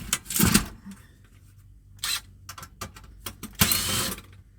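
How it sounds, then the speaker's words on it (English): Short, close bursts of a powered screwdriver whirring screws out of a scrap item, separated by clicks and small handling knocks, with a longer final run. "remove the screws holding the thing"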